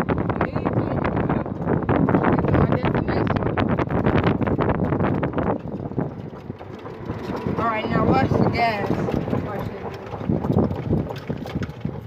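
Strong wind buffets the microphone outdoors on the water from a moving boat, a loud rushing roar that eases midway while people talk over it.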